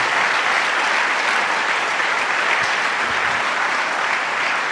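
A church congregation applauds in a dense, steady roar of clapping that holds at an even, loud level throughout, with no voices rising above it.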